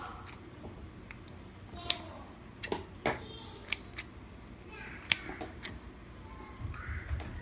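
Sharp scissor snips trimming a kusamono plant, a scattered series of crisp clicks spread over several seconds, close and fairly quiet with no talking.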